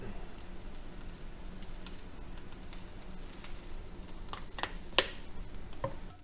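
Onions browning in butter and olive oil in a pan, a soft steady close sizzle with occasional stirring scrapes and one sharper clink, no voice over it.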